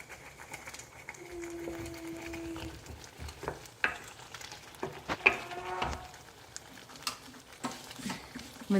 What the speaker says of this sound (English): When the tadka is getting ready